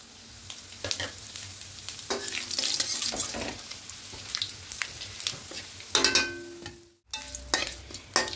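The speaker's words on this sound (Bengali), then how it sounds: "এবার তেলের মধ্যে গোটা জিরে, শুকনো লঙ্কা ফোড়নে দেব।" Whole cumin seeds and dry red chillies tempering in hot oil, a close crackling sizzle with scattered sharp pops and a few utensil clinks, briefly cutting out before resuming, with no talking.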